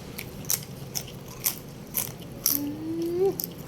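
Crisp crunching bites of crispy banana chips come every half second or so, close to the ear, with a brief whistle-like tone rising near the end.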